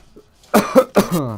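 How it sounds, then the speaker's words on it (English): A streamer coughs close to the microphone during a Warhammer: Vermintide 2 session: a few sharp, raspy coughs in quick succession after a quiet start, ending in a rougher, throaty hack. "Sorry I'm coughing a lot."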